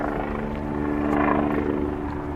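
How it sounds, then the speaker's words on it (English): A helicopter lifts off and hovers over open fields, its steady rotor thrum and engine drone loud and continuous with no voices. "The unmistakable sound of a helicopter taking off."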